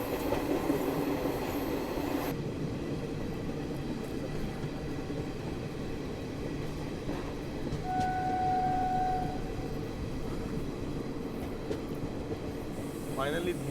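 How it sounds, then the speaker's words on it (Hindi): Passenger train, the Howrah–Pune Azad Hind Express, rolling slowly past a goods train, a continuous loud rumble of wheels and carriages with a brief squeal partway through. "धीरे रफ्तार में ही सही पर हमें गुड्स ट्रेन के आगे तो निकाला जा रहा है"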